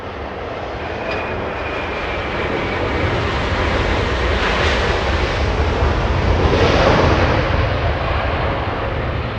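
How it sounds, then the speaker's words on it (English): An American Airlines Boeing Dreamliner jet airliner takes off at Los Angeles International Airport, a loud, steady broadband engine roar that holds throughout and swells slightly toward the middle and end. "it's the American Dreamliner, American 9749, carrying the Los Angeles Rams back to their home city"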